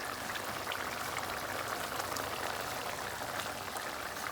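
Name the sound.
egg curry sauce simmering and reducing in pan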